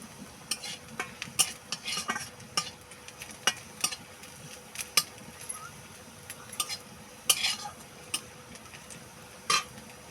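Onions browning in a pan during a brinjal fry, a faint low sizzle beneath frequent sharp clicks and taps of a spoon against the pan scattered irregularly throughout, close and fairly quiet with no talk.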